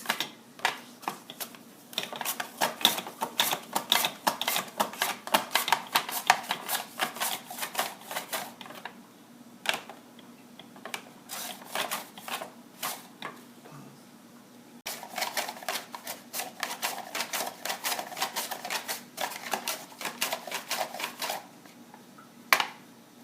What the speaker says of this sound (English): But look how fast these potatoes get cut.